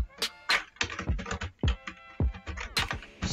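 Close-up typing on a computer keyboard, with crisp, uneven clusters of key clicks and taps repeating over a few seconds.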